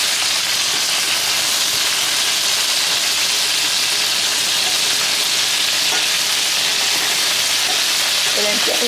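Chicken legs fry in a pan with a loud, constant, close sizzle and crackle of hot oil that runs unbroken from start to end.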